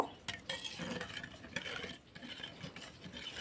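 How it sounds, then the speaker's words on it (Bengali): A spoon stirs spices into mixed vegetables in a pan, giving soft, irregular scraping and light clinks against the metal. The sound is quiet and close, with no talking. "এবার সমস্ত কিছু ভালো করে একটু মিলিয়ে নেব"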